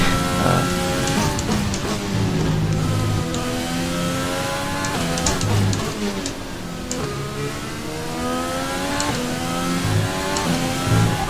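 A car engine in a racing video game drones loudly and continuously, its pitch rising and falling as it revs through gear changes, with no voices over it.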